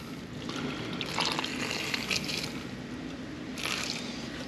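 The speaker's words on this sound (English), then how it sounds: "now I just pour the 500 in. So this is 500 ml of just water." 500 ml of plain water poured into a container, a steady splashing, filling pour running the full length at close range with a few brighter surges.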